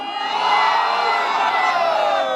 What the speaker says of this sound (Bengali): তোলো তাকবীর ধ্বনি ধরায়া রে কিবার